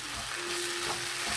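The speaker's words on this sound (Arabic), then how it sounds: "كنخلطو مزيان" Shrimp filling being mixed in a hot pan, giving a continuous close hiss of frying with a faint steady hum underneath and no talking over it.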